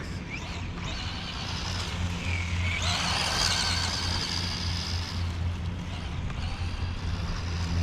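A Tamiya Frog DT03 radio-controlled car with CVD driveshafts and a sway bar runs close by. Its motor whines and rises in a high, continuous buzz for several seconds, then eases off, with steady background noise throughout.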